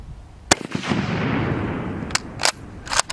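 Gunshots at an outdoor shooting range: a sharp report near the start, then a few more at uneven gaps near the end, with a rumbling tail after the first. The shots are loud and close, with no talk.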